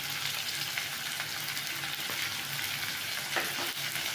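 Chopped capsicum fries in a pan, giving a steady close sizzle with occasional stirring scrapes, moderately quiet and continuous without any voices.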